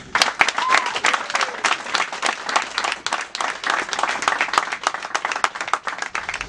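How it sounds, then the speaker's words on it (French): Audience applause at a public presentation of a preliminary project plan for the commune of Akanda, steady clapping from a crowd lasting several seconds with dense, uneven claps throughout. "Donc, sous vos applaudissements, je vais inviter Monsieur Jean-Gaspard Untou"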